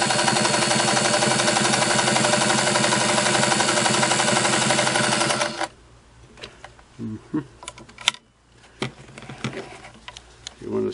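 A sewing machine built for heavier items runs fine stitches with a loud, steady mechanical whir and fast rattle, then stops abruptly, followed by quieter clicks and handling noises.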